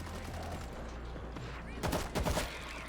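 An automatic turret firing in the zombie shooter World War Z, heard as a short rapid burst of shots after a low steady background rumble, with a faint voice in the mix.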